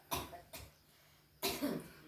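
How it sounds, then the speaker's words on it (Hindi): A woman with a week-long cough, suspected of tuberculosis, coughs three times in quick bursts, with the last one longer and rougher, close and clear in a quiet room. "खांसी आ रहा है ज़्यादा"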